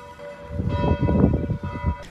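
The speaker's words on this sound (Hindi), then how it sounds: "वैसे ही यहाँ पे भी चर्च की घंटी बज रही है" Church bells ring steadily in a German village, a dense, resonant peal of overlapping strikes sounding fairly close and loud with no talking over them.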